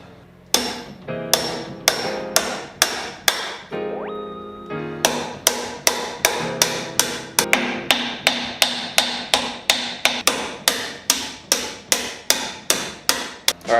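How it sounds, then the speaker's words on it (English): Repeated sharp metal hammer blows strike a dented car body panel resting on wood, steady and close, in two bursts of rapid strikes separated by a brief pause with a ringing tone. "I'm gonna have to hammer it. Literally just hammer it."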